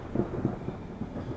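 Low, steady thunderstorm rumble with rolling thunder and rain texture, continuous and moderately loud through the short stretch, with no voices.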